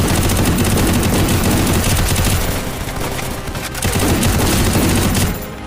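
Dense, loud automatic gunfire from the Free Fire video game rattles continuously in rapid overlapping bursts, briefly easing before resuming and then cutting off.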